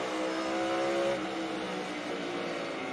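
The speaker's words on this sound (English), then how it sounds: "Hear him jabbing that throttle, trying to get it to turn." A NASCAR Cup Series race car at North Wilkesboro during a heat race, its engine rising and falling as the throttle is jabbed through a corner, a fairly faint, steady roar.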